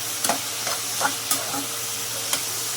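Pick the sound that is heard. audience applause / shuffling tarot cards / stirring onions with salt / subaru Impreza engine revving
stirring onions with salt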